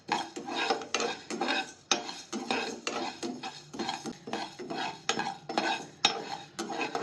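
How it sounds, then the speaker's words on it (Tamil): A spoon stirs lentil podi roasting in a pan over a medium flame, scraping in steady repeated strokes with light clinks against the metal and a faint sizzle, close and alone. "இது மீடியம் ஃப்ளேம்ல வச்சே நம்ம ரோஸ்ட் பண்ணிக்கலாம்"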